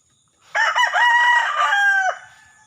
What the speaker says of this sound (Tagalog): Ito yung mga manok ko guys